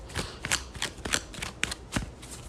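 Tarot cards are shuffled and drawn by hand, close, with a string of quick crisp riffles and slaps at an uneven rhythm and no talk.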